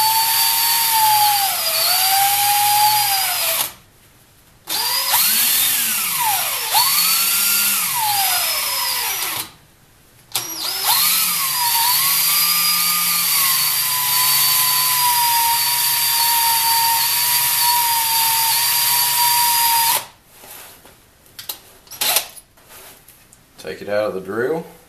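A drill spins a reloading die shaft to buff off dried blue polish, a loud high whine running in long bursts with short pauses, its pitch dipping and rising under load, then tapering into intermittent spurts.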